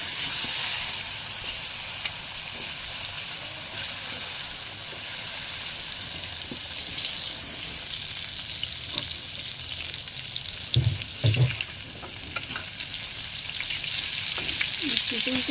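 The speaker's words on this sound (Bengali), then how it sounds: "তেল গরম হয়ে গেছে, পটলগুলো ভাজি করে নিই।" Pointed gourd slices frying in hot oil, a steady close sizzle and hiss throughout, with a few clinks and bubbling bursts toward the end.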